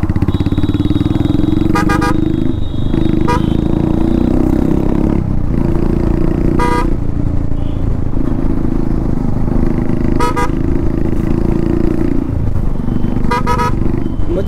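A motorcycle riding at speed on a road, its engine droning loud and steady with wind rush, other vehicle horns honking briefly in the traffic around it.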